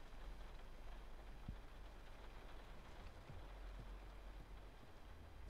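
A steady hiss of rainfall at night in the video game The Last of Us Remastered holds at an even level throughout, fairly faint, with an occasional soft thump underneath.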